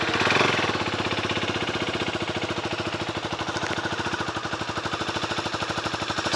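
A Leonart Daytona 125 motorcycle engine catches with a loud burst, then settles into a steady, rapid idle of even firing pulses, heard close and alone.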